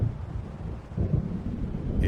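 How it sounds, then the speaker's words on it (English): Low thunder rumbles continuously through a stormy game world in Alan Wake, a heavy roll swelling and fading with wind-like noise across the whole stretch, no voices. "It seems there's a storm coming."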